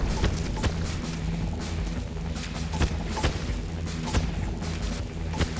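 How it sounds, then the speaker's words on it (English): Repeated booming shots from a blaster-style weapon in LittleBigPlanet 2, steady thuds and cracks over a dense droning game soundtrack, loud and close throughout. "Doing some shooting."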